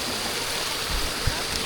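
A stream flows steadily with a dense, even rush of water and faint gurgling, heard up close and without pause for the whole stretch.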